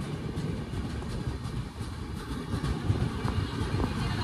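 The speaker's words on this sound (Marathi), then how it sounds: "आपली ट्रेन आलेली आहे नंदुरबारला" A passenger train rolling into Nandurbar railway station, with a continuous low rumble and faint rhythmic rail clatter at moderate distance, no voices.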